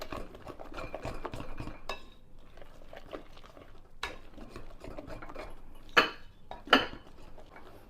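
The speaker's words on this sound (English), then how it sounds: "Now we're just going to stir it around. Okay, I'm going to use my dough whisk." A dough whisk stirring muffin batter in a bowl, repeated rhythmic scraping and clinking strokes close by, with a couple of sharper knocks against the bowl near the end.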